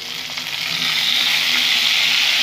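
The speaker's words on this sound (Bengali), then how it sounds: "পেঁয়াজগুলো দিয়ে আমি খুব সুন্দর করে ভেজে নেবো, লাল লাল করে।" Onions sizzle and fry steadily in a hot pan over a raised gas flame, a dense bright hiss that swells louder after the first half second and then holds level, with no talking.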